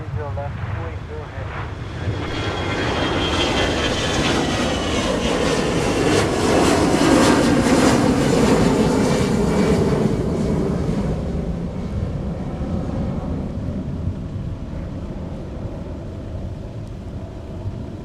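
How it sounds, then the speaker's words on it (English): Airliner departing runway 30 left at MSP airport on a cold, gusty day, heard as a broad steady engine roar that swells over several seconds and then slowly eases, heard from a distance with no talk. "Turn left heading 280, runway 30 left, clear for takeoff."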